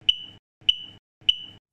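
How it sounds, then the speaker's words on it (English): A carbon monoxide alarm gives three short, sharp, high-pitched beeps, evenly spaced about half a second apart, close and clear against silence. "If the alarm beeps three times and the LED blinks three times about every 50 seconds"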